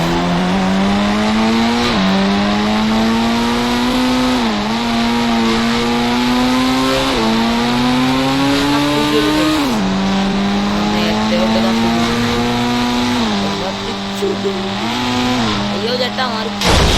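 A Lamborghini engine revs loud and close, its pitch climbing repeatedly and dropping back at each gear change over a long sustained run, with voices underneath.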